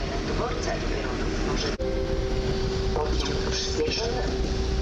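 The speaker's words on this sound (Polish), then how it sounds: "Jedzie pociąg piętrowy ze Skierniewic z kolei mazowieckich." Koleje Mazowieckie double-decker commuter train from Skierniewice rolling through Warszawa Zachodnia station, a steady rumble of wheels and motors with a sustained tone, moderately near, with someone talking over it.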